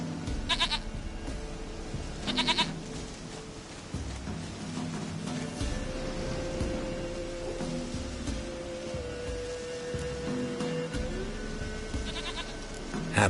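Goat bleats ring out from a video game scene, a couple of short bursts and a third near the end over a steady ambient background, with no talking.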